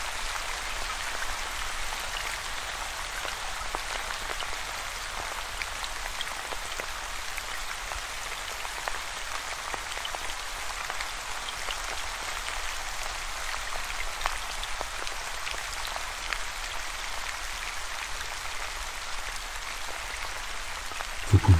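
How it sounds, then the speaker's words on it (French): Steady rain falls continuously, a dense, even patter of drops with no voices. "Les gouttes de pluie continuent de tomber à leur rythme"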